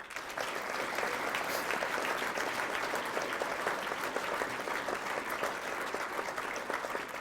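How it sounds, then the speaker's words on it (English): Sustained applause from an audience honoring graduating soldiers at a military class graduation ceremony, a steady, even wash of clapping that holds for several seconds at moderate distance with no talk over it. "Round of applause for your Commandant's List."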